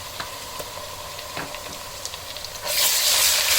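Ginger, garlic and green chilli paste frying for aloo bhujia, a low steamy hiss with small ticks that suddenly swells into a loud, bright sizzle near the end.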